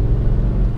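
Steady low rumble of a heavy early-2000s 2.2-ton car's engine, just under 300 horsepower, on light throttle, loud and close with a constant droning tone and no voices.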